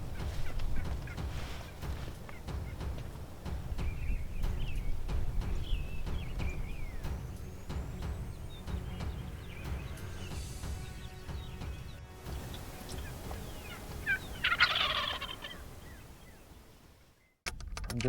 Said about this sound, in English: I can actually hear some birds gobbling